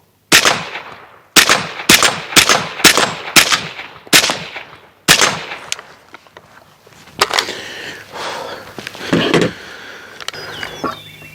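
Suppressed shots from a CZ Bren 2 rifle ring out in a string of sharp, loud cracks, spaced irregularly, followed by quieter handling and clatter noises.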